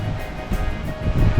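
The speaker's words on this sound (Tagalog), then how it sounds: "grabe yung alon, ang lakas" Loud, rushing ocean surf roaring steadily at South Batan, Batanes, with surges of crashing water and some wind buffeting the microphone.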